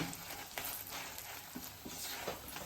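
A spoon stirs salt, chili powder and masala into a cooked dish with the stove switched off, producing faint scraping and light patter against the pan, close by and quiet, with no voices.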